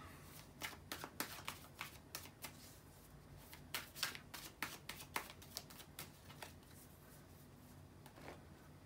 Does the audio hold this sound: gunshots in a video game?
no